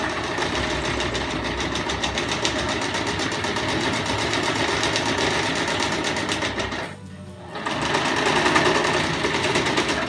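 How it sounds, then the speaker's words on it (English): Sewing machine running straight stitches along the bottom of a car seat poncho with a Velcro neck closure, a loud continuous close whir with one brief pause before it resumes. "Once again, just doing straight stitching on the bottom."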